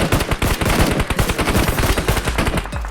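Automatic gunfire in a battle royale video game on a vacation-island map with windmills: dense, rapid, continuous bursts of close, loud shots with no pauses and no talk.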